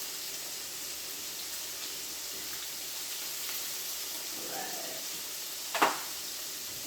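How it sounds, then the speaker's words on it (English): Southern salmon patties fry in a pan with a steady, soft sizzle and a brief, sharper spatter near the end as they are flipped. "we're flipping the salmon patties over"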